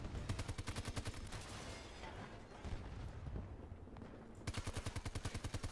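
Rapid automatic gunfire in the shooter game Battlefield 2042: a near, steady stream of shots that breaks off briefly and then resumes in a fast, even burst, with muffled battle noise during the pause.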